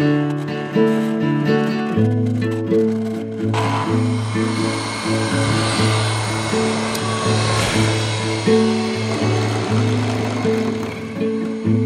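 Loud, steady machine whine of a slot mortiser with a 12 mm bit cutting a mortise in wood, with a droning hum and shifting pitch as it runs continuously.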